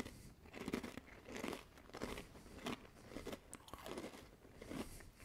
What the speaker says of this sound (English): It's nice and crunchy, and the milk chocolate drizzle gives it a really nice flavor